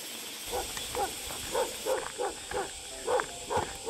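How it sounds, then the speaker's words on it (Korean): A dog barks repeatedly and loudly at a lone house beside a natural cave with a stream, the barks coming in an irregular series of sharp yelps over steady background hiss. "개가 엄청 짖어대는."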